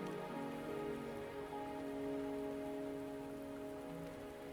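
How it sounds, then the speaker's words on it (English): Steady rain falls throughout a scene in the game Wuthering Waves, a dense even hiss laid over sustained tonal background music with no voices. "Are you trapped here by the rain?"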